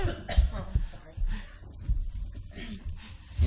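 A person coughs several times in short bursts, close by, mixed with throat clearing and people chatting in a room.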